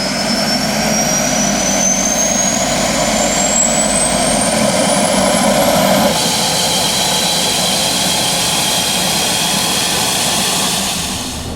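A Zagato-bodied Maserati engine runs steadily and loud throughout, a continuous close roar with a rising whine in the first half, no voices.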